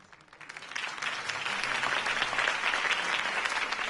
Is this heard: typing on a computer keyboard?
no